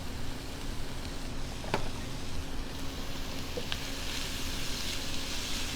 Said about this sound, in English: And then we're going to throw in our small diced yellow onions. Hear those sizzle.